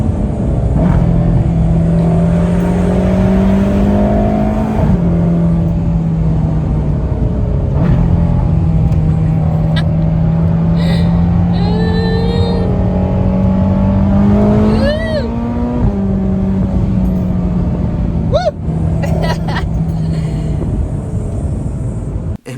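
A Ferrari V8 with paddle shifters pulls hard up through its gears, the engine note climbing and dropping sharply at each quick upshift, loud and close, with a voice speaking over part of it.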